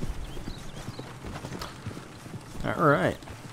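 Horse hooves clip-clop steadily in Red Dead Redemption 2, a moderate rhythmic patter under game ambience, with a louder tonal horse call rising near the end.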